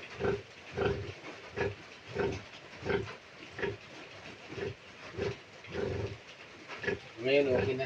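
A sow that has just given birth grunts angrily in a steady series of close, loud, rhythmic grunts, roughly one every half second, ending in a harsher squealing burst.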